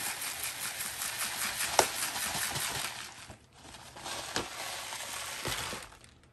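Small plastic poly pellets poured into a gardening glove, a steady granular rattle and hiss close up with a few sharp clicks, no talking.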